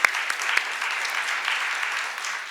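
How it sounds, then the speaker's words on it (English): A panel audience at a World Water Day event gives steady applause for the full clip, with a few sharper claps at the start and an even, moderate wash of clapping throughout. "Round of applause."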